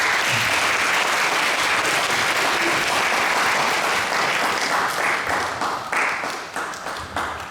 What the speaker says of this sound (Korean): 우리 한번 박수로 환영해 주시면 감사하겠습니다